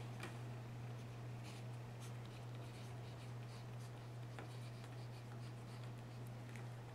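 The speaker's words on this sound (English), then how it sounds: "let's write that down" Pen or marker strokes scratch faintly across a board in short bursts over a steady low electrical hum, with no voices.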